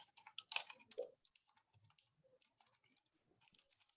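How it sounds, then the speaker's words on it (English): Quick, uneven keystrokes on a computer keyboard, a close flurry of taps at first that thins into sparser, fainter clicks, heard alone in a quiet room. "Okay, I'm typing it here."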